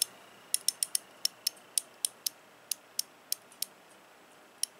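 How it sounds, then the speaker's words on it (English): A quarter-inch drive ratchet clicks through its action in a quiet room, about fifteen crisp, evenly spaced ticks followed by a lone final click after a pause. "Again, you can hear the ratchet action."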